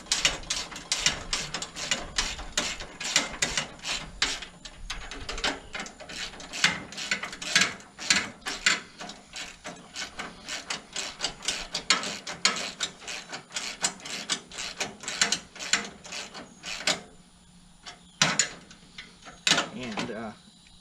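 Repeated ratcheting clicks and small metallic turns come from tightening a fitting on a Buyers LT 40 trimmer line spool rack. The clicks are steady and close, with a short pause near the end.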